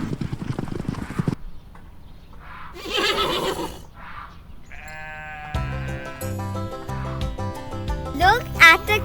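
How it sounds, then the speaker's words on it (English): Farm horse sounds: rapid hooves clip-clopping, then a whinnying neigh, followed by bleating that suggests sheep or goats nearby, with background music and voices mixed in; moderately loud and close. "Farmers use horses for riding and sometimes for helping with work on the farm."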